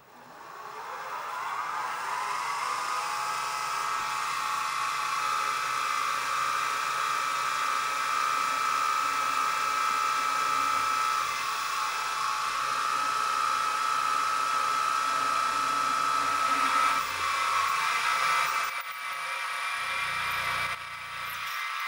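A power drill with a 7/64-inch bit whirs steadily through metal for about twenty seconds, pitch rising slightly as it bites, then slows and stops near the end, machining a hit-and-miss engine's water hopper.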